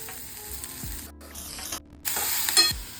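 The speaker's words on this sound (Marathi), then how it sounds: "मी या सगळ्या व्हेजिटेबल्सला तेलामध्ये थोडेसे फ्राय करणार आहे" Mixed vegetables fry in a little oil, giving bursts of loud sizzling and spattering broken by brief quiet gaps and the scrape of stirring, close and clear with no talk.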